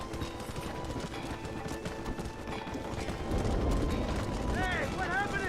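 Horses gallop in the video game Red Dead Redemption, with rapid, continuous hoofbeats under ongoing voices and game sound effects.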